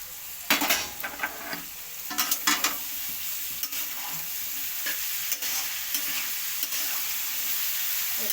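Capsicum, chilli and onion being stir-fried together in a pan for chow mein, a steady sizzle with scraping, clattering stirs of a utensil against the pan in bursts early on, then continuous frying.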